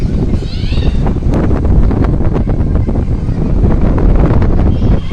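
Loud, steady wind buffets the microphone outdoors as rain weather sets in, a constant roaring rumble with gusty surges throughout.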